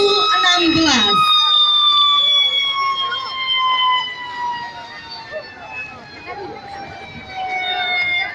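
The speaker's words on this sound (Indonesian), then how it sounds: "penekanan tombol sirene ini sebagai tanda dibukanya pelaksanaan Lampung Utara Fair tahun" Siren sounded at the push of a button to open the 2016 Lampung Utara Fair, a loud sustained wail that slowly falls in pitch and fades over crowd murmur after a brief sharp sound at the start.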